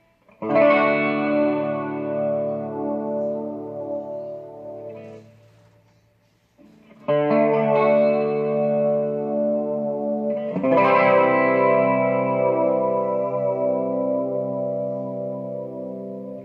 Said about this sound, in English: the two tones together end up chorusing with each other